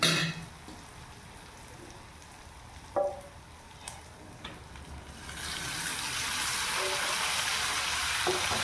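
Meat added to browned onions sizzles in a pan, quiet frying with a few clinks of stirring, then the sizzle swells louder and steady toward the end.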